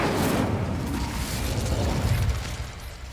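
Incendio fire spell cast in the video game Hogwarts Legacy, a loud whooshing, crackling burst of flame with a low rumbling body that holds steady for about three seconds before easing slightly.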